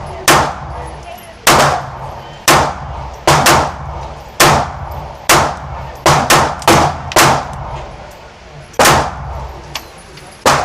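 Repeated loud gunshots from a Smith & Wesson Bodyguard .380 ACP pocket pistol fitted with a large optic, about a dozen sharp cracks in an uneven rhythm with short pauses between strings, close and dominant.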